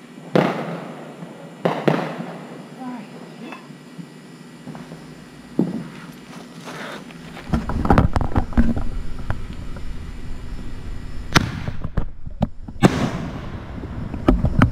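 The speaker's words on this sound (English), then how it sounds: "This is the world's best freaking consumer fireworks right here." Consumer fireworks explode at a Fourth of July backyard show: sharp cracks and pops at first, then a dense, loud stretch of rapid crackling bursts and booms, with no talking.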